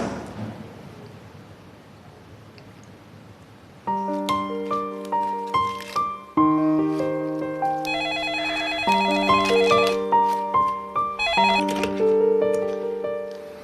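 After a few seconds of quiet background, a melodic phone ringtone starts and plays a repeating tune of bright, chiming notes, loud and close.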